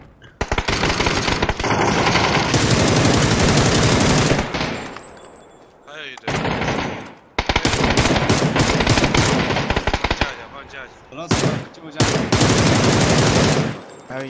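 Sustained automatic gunfire rattles loudly in a shooter video game exchange, long continuous bursts broken by short pauses, with a player's voice briefly audible among the shots.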